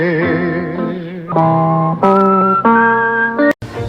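Someone whistles the Tombstone Territory western theme tune, loud and close, with clear sustained melodic notes that step between pitches and end with an abrupt break.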